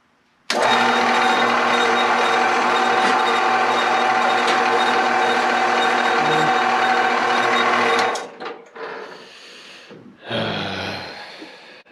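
A Harbor Freight bandsaw cuts into a rock, a loud, steady mechanical whine and grind held for about eight seconds, then cutting off abruptly into softer uneven rumbles and a brief restart.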